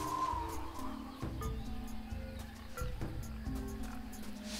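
Jungle creature calls from Tales of Monkey Island, with a squealing pig, a buzzing bee and a chirping bird cycling in a repeating sequence of short, distinct calls over a steady ambient jungle bed.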